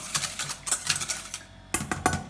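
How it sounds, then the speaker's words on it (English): Rapid clinking strokes of a whisk against a bowl as rice wine vinegar is beaten into a dressing, close and fairly loud in two quick bursts with a brief pause between. "Whisk that up"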